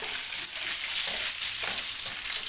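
A spoonful of tomato paste melts and sizzles steadily in a hot pan, a continuous close frying hiss with faint stirring scrapes.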